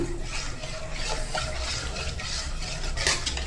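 A spoon scrapes and swirls through thick drumstick and mango sambar in a metal pot, with steady stirring noises and a brief clink near the end.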